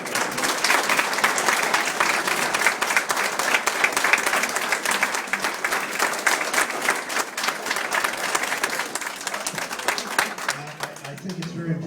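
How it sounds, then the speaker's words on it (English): An audience applauds military veterans, a sustained dense burst of clapping from a large crowd that holds steady at full strength before tapering off near the end. "And I think we owe these people a round of applause."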